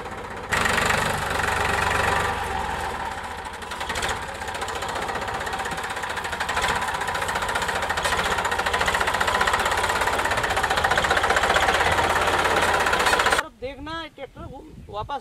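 A tractor hauling a deep plough along a furrow on a farm in Madhya Pradesh, its engine loud and close with a steady rough knocking drone that runs throughout, then drops away near the end.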